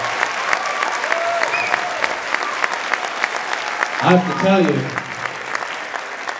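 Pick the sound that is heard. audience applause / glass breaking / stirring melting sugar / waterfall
audience applause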